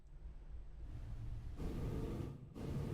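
Synthesized wind effect from a Cherry Audio software synthesizer, a steady hiss-and-rumble wash that swells louder partway through and stays constant, no voices.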